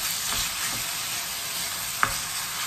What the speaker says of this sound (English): Igusa muna natin ang ating minced pork.